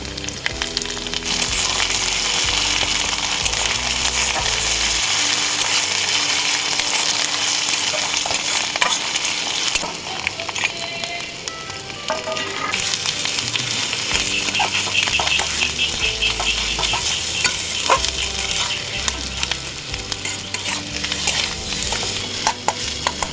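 Crushed ginger, green chilli and garlic frying with onions in a pan, a loud, continuous sizzle with stirring scrapes running through it and brief dips where the hiss eases before surging back.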